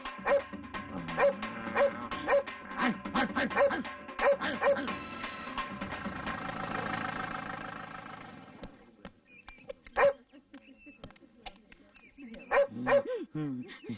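A voice imitates a dog: a quick run of barks and yips, then a drawn-out whining howl, then a pause, and a few more sharp barks near the end.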